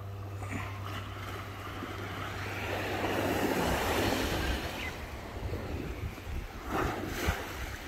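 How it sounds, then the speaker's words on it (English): Ocean surf at a mega high tide at Barwon Heads surges against a shore with concrete, a continuous broad roar that swells in the middle, mixed with wind buffeting the microphone. "because the waves have been coming up"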